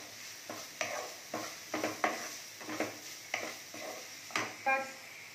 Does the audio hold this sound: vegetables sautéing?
yes